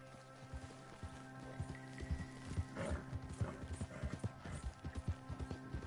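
Horse hooves clip-clopping in the video game Red Dead Redemption 2, a quiet rhythmic run of hoof strikes that grows denser and more regular, heard alone at low level.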